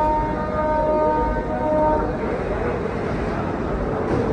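A Tejas Express train pulls into Kudal railway station on the Konkan Railway. A steady horn sounds for about two seconds over a loud, continuous rolling rumble of wheels and carriages, and the rumble carries on after the horn stops.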